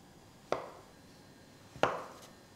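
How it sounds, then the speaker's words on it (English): A knife slices Kipfler potatoes into thick rings for potato salad, giving two sharp, close chops about a second apart against a quiet background. "So now we just need to slice our Kiflers into about half a centimetre thick rings."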